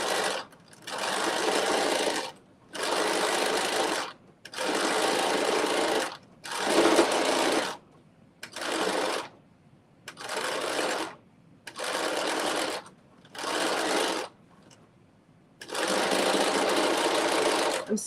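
Home sewing machine stitching during a sew-along, running in about eight bursts of rapid mechanical whirring, each a second or two long, separated by short pauses, close and clear.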